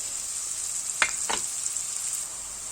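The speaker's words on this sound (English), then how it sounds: "So place your chopped up onions and just saute your onions." Chopped onions sauté in a pan with a steady, bright sizzle, close and moderately loud, broken by two brief stirring scrapes.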